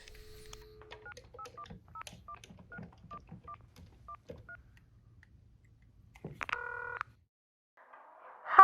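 A telephone number is dialed in a quick series of short, clean touch-tone beeps, followed by a brief louder tone burst and a faint ringing sound near the end.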